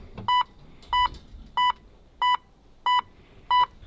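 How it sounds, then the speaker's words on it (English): A car's warning beeper sounds six evenly spaced tones, each about a quarter second long and roughly half a second apart. The beeps are clear and close over a quiet background. "So basically came back and the car is beeping."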